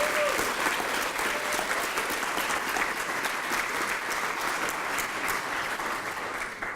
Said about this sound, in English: So again, one more round of applause for all the transfer students.